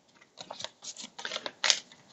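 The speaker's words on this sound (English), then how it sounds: "We'd shuffle them up, and they would go on the top of the enemy stack." Plastic enemy tokens for the board game Warp's Edge rustle and clack as they are shuffled up, arriving in several short, close bursts with a sharper click near the end.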